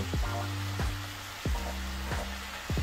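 Worcestershire sauce hitting hot bacon grease in a pan of cabbage, a steady broadband sizzle with a few sharp bursts of crackle, close and continuous with no talking.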